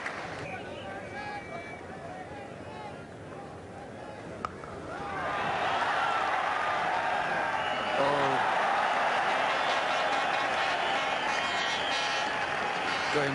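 Crowd applause at Lord's during the 1986 India versus England Test match, rising from a murmur into steady, broad clapping that carries on under a commentator's voice.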